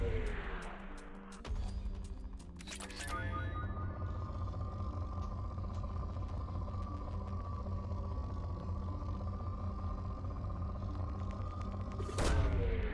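A probe launch in Mass Effect 2: a sharp mechanical burst, then a sustained whirring hum that carries for several seconds before a second bright burst at the end, fairly faint overall.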